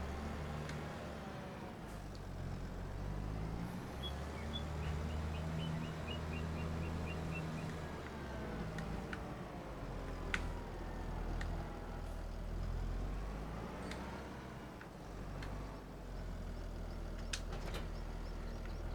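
Tractor engine in a farming video game rumbling steadily at a low pitch while the machine is driven and parked, a continuous loud drone that holds at a constant level throughout.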